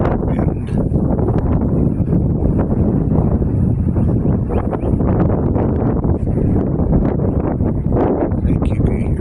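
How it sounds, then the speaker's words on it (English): Strong wind blowing by a lake roars into the microphone as a loud, continuous low rumble with gusty buffeting, while a person talks over it. "I think you can hear the wind."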